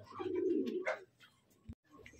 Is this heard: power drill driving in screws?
no